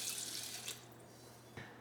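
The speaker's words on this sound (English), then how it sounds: "Now I'm adding my 1 cup of water." Water running from a tap into a pot of lentils, a short steady splashing stream that cuts off and then gives a brief final splash.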